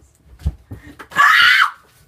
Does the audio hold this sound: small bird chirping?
no